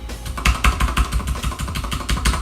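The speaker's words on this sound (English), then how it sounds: "here's the sound of me pressing the shift key" Shift key on a lubed mechanical keyboard pressed repeatedly in a quick, even rhythm, a series of soft clacks picked up from a distance with steady background hum behind.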